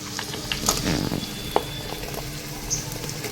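Meat curry frying in a pot, with a steady close sizzle and crackle, a few sharp pops and stirring scrapes throughout, and no voices.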